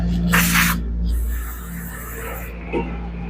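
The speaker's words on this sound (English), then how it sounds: "I'm going to give it a spray out just to be safe" A close aerosol spray cleaning out a carburetor bowl hisses in two bursts, a short sharp blast followed by a longer steady spray, with a faint hum underneath.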